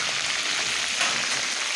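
Beef sautéing in a hot pan gives a dense, steady sizzle with crackling spatter, close and continuous with no voices.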